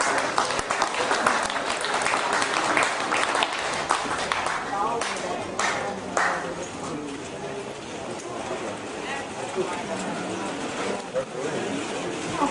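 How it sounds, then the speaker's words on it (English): Audience applause for the winners of the Young Cow Classes at the 2011 Minnesota State Show, a steady broad clapping wash that carries through the clip with voices audible alongside and underneath it. "Let's please all give a strong round of applause for the winners of this today's Young Cow"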